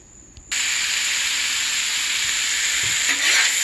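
Meat hits a hot Blackstone griddle for a tex-mex wrap, and a loud, close, steady sizzle starts abruptly and holds bright and hissing to the end.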